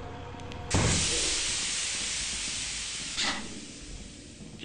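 Steam hisses loudly and steadily in the video game Lethal Company, a broad continuous rush that starts abruptly, holds for several seconds, then swells briefly again near the end before fading slightly.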